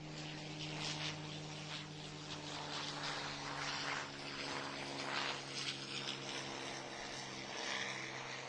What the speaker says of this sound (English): Aircraft just taking off. The P-51 Mustang from World War II.